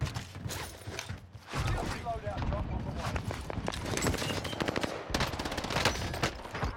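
Rapid, dense gunfire from the video game Call of Duty Warzone rattles continuously throughout, with bursts of shots layered over game noise and someone talking over it.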